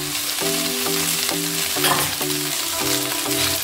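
Homemade Bengali-style chowmein with egg and potato stir-fries in a pan with a loud, continuous, close-up sizzle, under a regularly repeating tonal backing.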